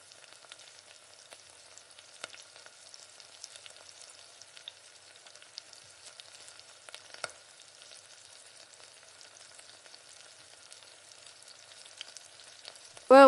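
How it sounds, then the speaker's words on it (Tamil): Ginger, garlic, coconut and roasted gram sautéing in oil, a faint steady crackling sizzle with light scattered pops, close and alone, no talking. "இப்போ இது கூட தேங்காயும் உடச்சக்கடலை பொட்டுக்கடலை வந்து ஒரு கொஞ்சமாக சேர்த்து நல்லா வதக்கி விடுங்க."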